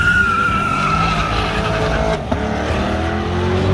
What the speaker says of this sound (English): the drag race is like on the infield straight stretch